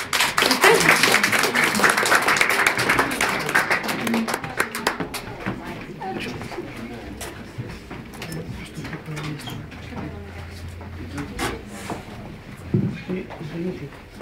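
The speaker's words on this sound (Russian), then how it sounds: "Поддержите его аплодисментами." An audience applauds a six-year-old classical guitarist at a concert in Moscow. A dense burst of clapping opens loudly and fades within a few seconds, leaving scattered claps and voices.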